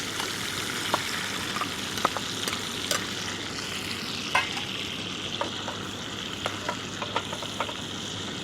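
Diced onion frying in salted butter in a pan, a steady soft sizzle with light clicks and stirring scrapes scattered throughout, continuous and fairly quiet.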